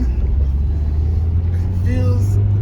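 Steady low engine and road rumble from inside a moving 2005 Volkswagen Passat B5.5 wagon, a continuous drone throughout with faint higher squeaks near the end, no one talking.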